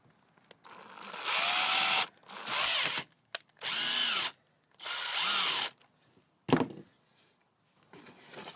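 A power drill drives a larger screw into a PVC bow in several bursts of whirring, each lasting about a second, separated by short pauses and ending with a sharp knock. The drill is close and loud, with no speech.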